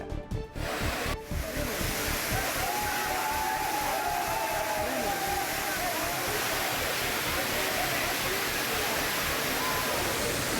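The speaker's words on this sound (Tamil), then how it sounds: "இதனையொட்டி பல்வேறு வண்ணங்களில் குற்றால அருவிகளில் ஜொலித்து வருகின்றன." The Courtallam waterfalls roar in a continuous, dense rush of falling water, loud and steady throughout, with crowd murmur faintly mixed in.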